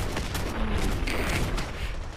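A WH Mk 22 heavy machine gun fires in Fallout 4, heard as a dense, continuous rattle of rapid booming shots with no pauses and no voices.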